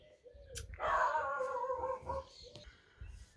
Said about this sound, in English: was waiting for the dogs to stop barking, but I don't think they ever will